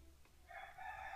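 A rooster crows faintly in the background outdoors, a short rising call that is distant and quiet, heard alone without speech.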